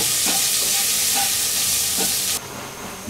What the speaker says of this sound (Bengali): 1 কাপ কুচি করা পেঁয়াজ দিলাম। এটাকে একটু নাড়বো।